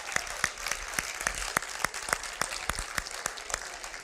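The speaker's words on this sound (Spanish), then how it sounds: "Un aplauso para los maracuchos" A church congregation claps during a sermon, with sharp individual claps standing out in an irregular but steady rhythm over a softer crowd bed, fairly close.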